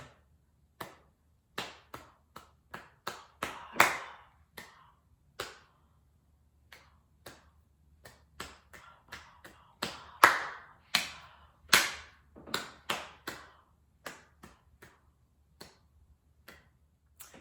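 Rhythmic clapping practice without a violin, as sharp, isolated hand claps in a dry, quiet room, spaced in uneven musical patterns with short clusters and pauses.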